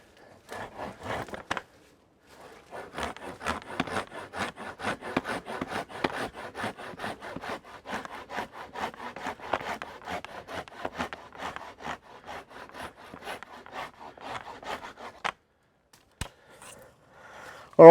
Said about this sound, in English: That's the pole saw for you.